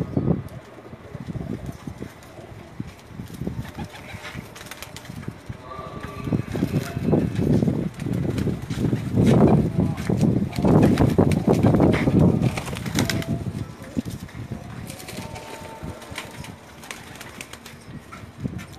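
Teddy pigeons of an old breed coo and shuffle nearby, with soft murmuring calls and occasional wing flutters that swell in the middle and ease off toward the end.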